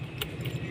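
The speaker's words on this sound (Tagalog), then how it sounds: "Susi." A bunch of keys jangles up close, giving a brief metallic rattle with a couple of bright chimes over a steady low engine-like hum.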